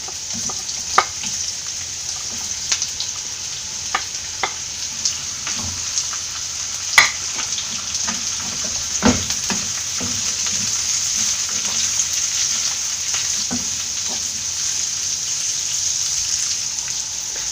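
Carrots, beans and onion stir-frying for egg hakka noodles, a steady sizzle with intermittent scraping and clicking stirs close by, no talk.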